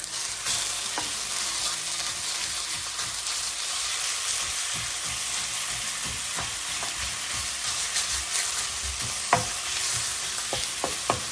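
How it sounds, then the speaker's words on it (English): Ground pork sizzles and fries in a pan over medium-high heat for Sichuan spicy minced pork sauce, a steady loud crackle with scattered clicks and scrapes of a spatula stirring and breaking up the meat. "into the pan, I'm going to add the ground pork"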